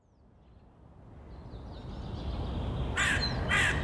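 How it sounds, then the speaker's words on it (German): Crows caw twice near the end, loud, harsh calls ringing out over a rising rush of wind-like background noise, with no voices. "Verdammte Krähen."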